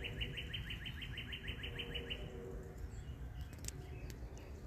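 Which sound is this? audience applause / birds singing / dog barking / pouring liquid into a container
birds singing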